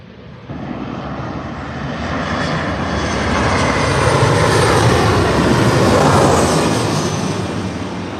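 A Boeing 737-800 jet airliner from Dublin roars past at Leeds Bradford Airport during Storm Antoni, a loud broad engine rush swelling steadily as it nears and passes, mixed with gusty wind noise.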